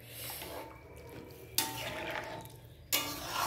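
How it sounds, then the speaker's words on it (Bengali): Dal (lentils) is poured into a pot of seasonal vegetables with a close, fairly quiet wet splashing, marked by two sharper bursts of liquid. No one speaks. "ডালটা ঢেলে দিয়েছি।"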